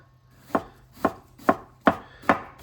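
Knife finely chopping guacamole ingredients on a board, five crisp evenly spaced cuts, close and clear with nothing else over them.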